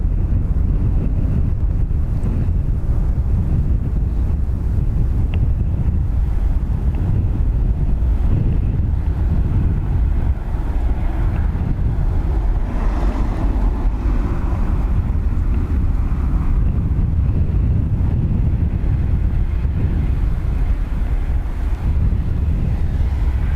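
Steady low rumbling wind buffeting an outdoor microphone at Dublin Airport, continuous and loud for the whole stretch with no voices.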